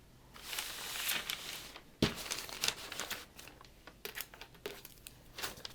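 Paper sewing pattern pieces are folded together at a shoulder seam, giving close, soft crinkling and rustling in uneven bursts with a few sharper crackles throughout.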